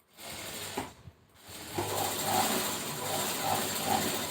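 A sewing machine stitches piping onto a blouse neckline, starting after a short pause and then running in a steady, moderately loud mechanical whir with a faint rhythmic ticking.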